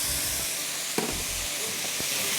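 Chicken samosa filling sizzles and hisses steadily in a hot pan with ginger garlic paste, a continuous close frying crackle with a few sharper clicks of stirring, no voices.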